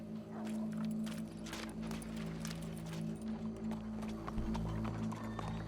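Horse hooves clip-clop in Red Dead Redemption 2, a steady run of hoofbeats under low sustained game music and ambient sound, with no speech.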